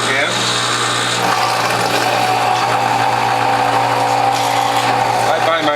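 A juicer grinds turmeric root with a steady, loud motor whir and crunching under it, close and continuous for the whole stretch.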